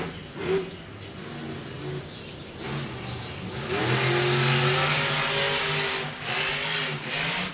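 A monster truck engine at an arena show revs loudly, surging and climbing into a sustained high-rpm roar, with crowd noise around it.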